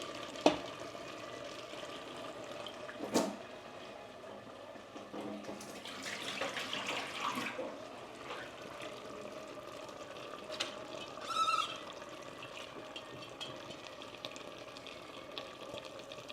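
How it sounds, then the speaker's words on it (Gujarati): Hot water poured into a pan of bottle gourd and chana dal cooking with spices, a soft steady watery splash and sizzle running throughout at moderate level, with a few brief clatters. "તો આપણે એમાં ગરમ પાણી નાખી દઈએ."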